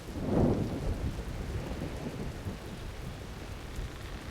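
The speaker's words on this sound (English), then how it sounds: "Why is it raining?" Rain and thunder in the video game Dungeon Siege 3, a low rumble of thunder at the start fading into a steady wash of falling rain, with no talking.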